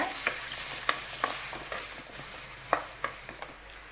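Chopped tomatoes fry in a pan for cucumber chutney, a soft continuous sizzle broken by sharp, scattered spatula clicks against the pan, nearby and fairly quiet, with no speech.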